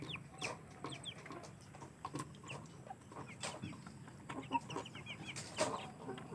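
Two-month-old Ayam Aseel chickens cluck and peep in a small group, a faint, busy scatter of short calls close by with no talk over them.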